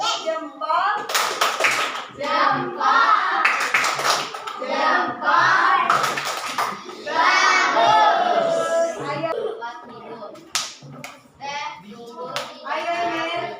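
A group of children does a thumb-clap routine in a classroom, rhythmic bursts of clapping mixed with a teacher's voice and children speaking and chanting throughout.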